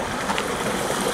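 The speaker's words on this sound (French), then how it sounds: "Ah, il y a de l'eau ici." Water trickles steadily through a tunnel, a soft continuous wash with no distinct splashes. The sound stays even and moderately loud for about a second.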